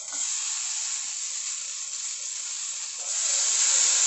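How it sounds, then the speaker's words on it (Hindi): Green chillies and cashews sautéing in a pan for shahi paneer, a steady close hiss of frying that swells slightly louder toward the end, heard alone without talk. "हरी मिर्च, और सबको अच्छी तरीके से सॉटे करें।"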